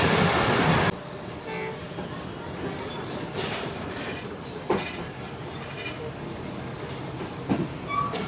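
A passenger express train, the Karakoram Express or the Pak Business Express, rumbles past near Kotri Junction with a steady rolling roar and occasional rail clacks, after a brief louder burst at the start.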